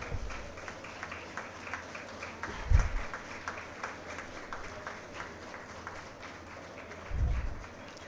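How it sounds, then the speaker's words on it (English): An audience applauds award winners at the final of an all-India moot court competition, with sustained, fairly distant clapping and a couple of low thumps. "Please give them a big round of applause."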